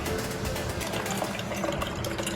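Homemade hand sanitizer gel being poured into a container gives a close, continuous liquid pouring and gurgling sound, moderately quiet and steady, with no talking.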